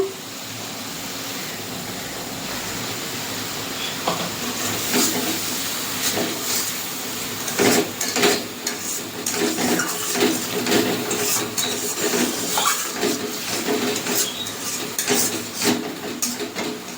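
A spoon stirs spices frying in oil in a pan, producing a continuous sizzle with repeated scraping and metallic clinks against the pan.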